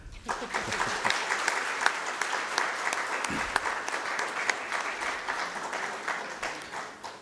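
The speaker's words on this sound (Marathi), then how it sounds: "एक आपल्या स्वतःसाठी टाळ्यांचा गजर असू द्या" Audience applause at a health workshop on metabolic syndrome, a steady roomful of clapping sustained for about seven seconds without a break.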